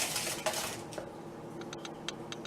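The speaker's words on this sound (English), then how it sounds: "We're going to whisk this together real fast." A metal whisk scrapes and clinks quickly in a bowl as flour and sugar are stirred together, with a soft gritty swish early and light taps against the bowl afterward.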